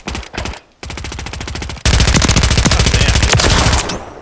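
First-person shooter gunfight in an alley, bursts of rapid automatic gunfire: short volleys, then a long sustained loud stream of rattling shots, close and dominant.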